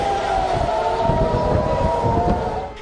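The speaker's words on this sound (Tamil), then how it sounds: "நேற்று பகல் பொழுதிலேயே சைரன்கள் ஒலித்தபடி இருந்தன" A loud, sustained civil defense air raid siren wails at a steady pitch during an Iranian attack in June 2025, its drawn-out tone carrying over a rumbling background without any speech.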